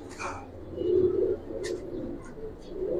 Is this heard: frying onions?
no